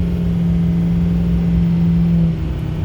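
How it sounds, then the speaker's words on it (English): A Ford 6.0 diesel truck engine fitted with a Bully Dog tuner, held at about half throttle under boost, giving a loud, steady droning hum with a sustained tone that drops off near the end. "Really only giving it about half the throttle, so it just holds that boost right open"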